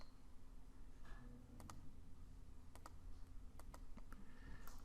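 Quiet keyboard shortcut presses and mouse clicks on a computer, sparse sharp clicks falling singly and in quick pairs over a low background hum, with no speech.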